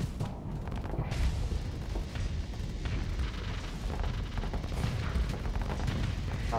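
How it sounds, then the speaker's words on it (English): Flak guns pound away in the space combat game Starsector, a dense barrage of overlapping bursts and booms that keeps going without a break. "Flak field, just shoot the sky, don't worry about it."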